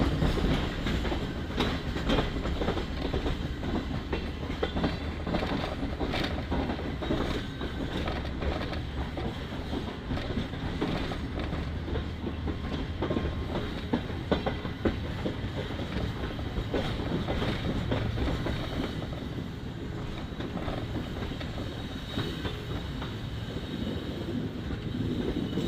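A train rolls steadily into a station on the route from Hyderabad toward Rohri junction, a continuous clickety-clack of wheels over rail joints and carriage rumble, with birds, likely pigeons, faintly audible in the background.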